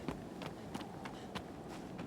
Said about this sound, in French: les pas de Wander